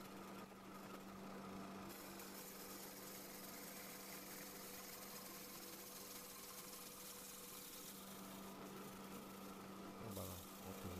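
An electric drill boring into hardwood for a forest lamp, a steady whining motor hum that runs continuously and fairly faint, with a brief change in tone near the end.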